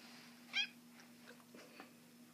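A house cat gives a single short meow, fairly close and faint, against a quiet room with a steady low hum and a few soft rustles afterward.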